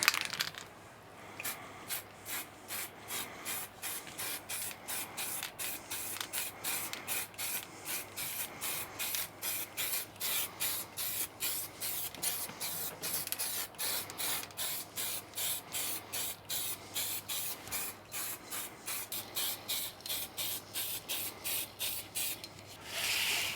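A Commodore 64 part gets sprayed with epoxy primer filler in rapid repeated short bursts, a rhythmic hissing pattern of close spray pulses with brief gaps, no voices.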